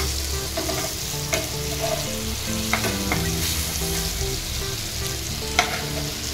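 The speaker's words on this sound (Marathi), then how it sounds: "आता दुसरी साईड देखील आपल्याला अशी फ्राय करून घ्यायची छानपैकी" Surmai fish fillets fry on their second side in a pan over low heat, giving a steady close sizzle with scattered pops and a few sharp clicks, as if from a spatula.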